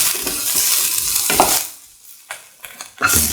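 Onions sautéing and being stirred in a pan for a mango plantain stew, a steady close sizzle with stirring scrapes that fades out midway, then returns in short bursts near the end.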